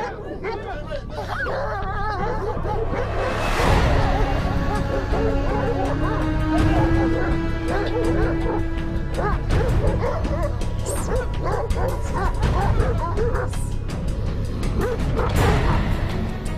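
Caucasian Shepherd dogs bark and yip continuously in a noisy, overlapping chorus with whimpers mixed in, loud and close, with people's voices murmuring underneath throughout.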